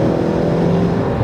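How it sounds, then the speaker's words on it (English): A 2020 Jeep Cherokee under hard acceleration, its engine roaring as a steady, loud, continuous drone with a broad hiss layered on top, consistent with the turbo wastegate venting behind the vehicle. "I can hear when I pin it, I can hear the wastegate in the back go psss."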